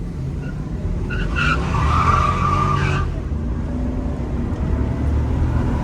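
A 90s Lexus SC300/SC400 with a big brake upgrade doing a burnout: tires squeal loudly for a couple of seconds over a steady engine roar, then the engine keeps running alone, close and loud.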